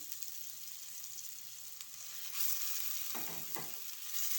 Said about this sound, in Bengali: তেলটা আমার গরম হয়ে গিয়েছে এবার আমি এতে দিয়ে দেবো পেঁয়াজ কুচি আর দিয়ে দেবো রসুন কুচি